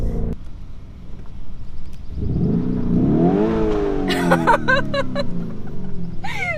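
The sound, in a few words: Lamborghini Urus engine accelerating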